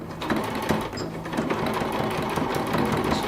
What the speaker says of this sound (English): And then I just kind of sew.